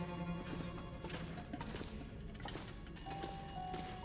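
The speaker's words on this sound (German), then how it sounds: "wir gehen mal erst ans Telefon, damit nicht ständig im Hintergrund klingelt." An old telephone rings in The Long Dark video game, its faint, repeated bell sounding softly in the background over a quiet ambient bed, with no talking.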